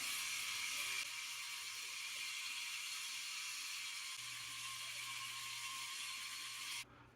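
A Philips Norelco 9800 electric shaver runs steadily close by, its high whirring buzz held at an even level for several seconds before cutting out near the end.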